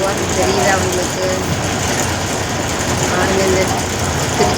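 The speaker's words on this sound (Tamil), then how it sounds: "ட்ரெயின் போகிறது தெரியுதா உங்களுக்கு?" A train rolls past a busy level crossing on its way to Tiruchendur as road traffic waits. The rumble and clatter are loud and continuous and stay steady throughout, with a person speaking over the noise.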